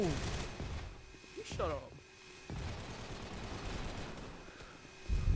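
A Tommy gun in a VR video game fires in short rattling bursts, then steadier gunfire and scuffling carry on under a brief spoken line.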